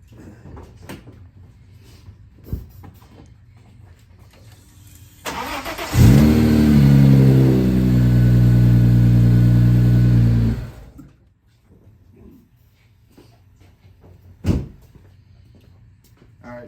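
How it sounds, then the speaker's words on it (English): Audi B5 S4 engine cranks briefly, then catches and starts, settling into a loud, steady idle for several seconds before cutting off, with quieter ambient clatter before and after. "So let's go ahead and start it up"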